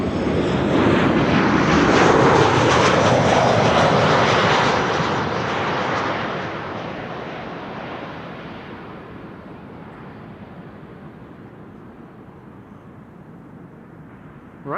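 A Beechcraft King Air (BE-20) propeller airplane passes over Amsterdam Schiphol Airport, its engine roar loud and broad at first, then steadily fading into a distant drone over many seconds, with no talking.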